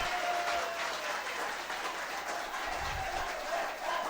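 Applause from the public during a town council session for Ilha de Itamaracá, steady moderately distant clapping filling the room for a few seconds, with a brief low thump partway through.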